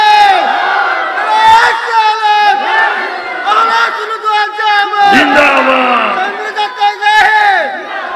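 A large religious gathering at a Ramadan sermon shouts takbir back to a preacher, a loud massed chorus of voices rising in repeated waves of chanting.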